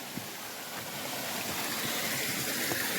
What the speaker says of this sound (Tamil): இங்கே பாருங்கள் நீரோடையின் சவுண்டு கேட்குதா சிறு சிறு நீரோடைகள்